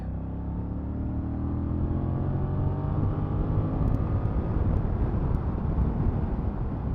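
A 2023 Honda CMX 1100 DCT motorcycle engine pulls hard in third gear, its drone rising steadily in pitch as it accelerates, loud and continuous under rushing wind noise.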